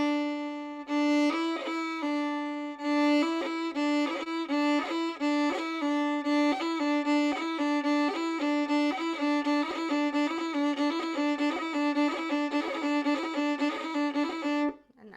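An Irish fiddle plays a slow-motion double tap cut, first finger down and third finger cutting, in a steady run of clear, distinct bowed notes, alone and close, with no talk.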